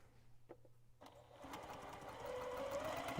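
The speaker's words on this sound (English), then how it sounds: "you just want to sew one to another" A sewing machine starts up and runs steadily, joining quilt fabric pieces with a quarter-inch seam, its whirring stitching growing louder and continuing close by.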